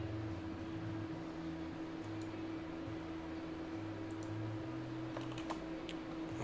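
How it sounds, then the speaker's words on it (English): Fingers tap on a computer keyboard in a quick, uneven patter of faint clicks against a steady electrical hum and background noise, with no one speaking. "when we finish typing"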